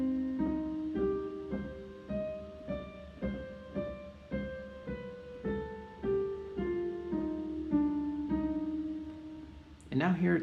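Piano plays the third and fourth measures of a Bach piece for beginners, slow, evenly spaced single notes and two-note figures at moderate volume, ending with a short noisy thump.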